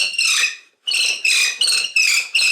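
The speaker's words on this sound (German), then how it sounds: "Und dann kann ich hier ganz in Ruhe bohren." A wooden spindle spins in a double spindle guide for fire drilling, giving loud, close, high squealing friction in four bursts with short pauses between strokes.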